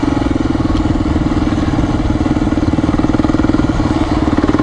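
A Honda XR400R dirt bike engine idles close by, a loud, steady thumping putter with an even pulse running throughout and no other sound over it.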